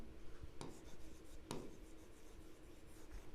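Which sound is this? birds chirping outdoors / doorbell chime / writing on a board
writing on a board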